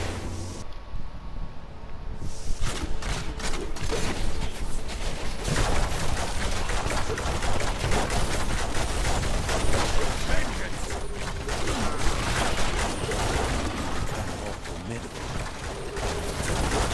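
Demon Hunter strafe attack in Diablo 3, a dense continuous barrage of rapid mechanical clicking and gunfire-like bursts that runs loud and steady throughout, with game music and effects layered underneath.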